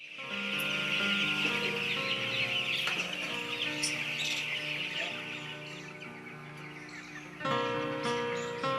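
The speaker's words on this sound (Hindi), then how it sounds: "दिलीप कुमार सिंह अपने मुर्गी फार्म में लाए गए चूजों की देखभाल, आहार एवं साफ सफाई पर विशेष ध्यान देते हैं।" Chickens cluck steadily on a poultry farm, a dense, continuous chorus of many birds, with a sharper burst of louder calls near the end.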